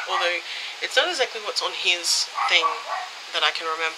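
A dog yips and barks in the background, several short high calls scattered under someone talking close by indoors.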